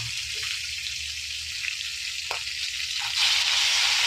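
Hilsa fish fry in hot oil, a steady close sizzle with a few small pops, getting a little louder near the end, and no voices.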